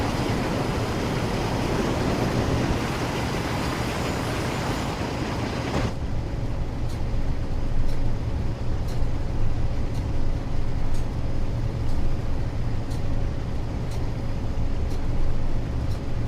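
A locomotive hauling a military freight train on the West Coast Main Line climb to Shap Summit in Train Sim World 6, a steady loud engine drone and rumble with regular clicks, no talking.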